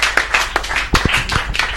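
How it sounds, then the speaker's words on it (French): A small audience applauds at a French community radio or TV broadcast on local music events, a few seconds of close, uneven hand claps, sparse and irregular rather than a full ovation. "on peut applaudir très bien aussi Angélique."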